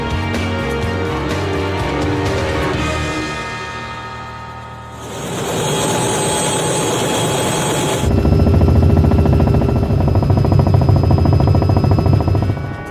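A helicopter's engine whines and its rotors thrum loudly, the sound shifting in character partway through and growing stronger toward the end.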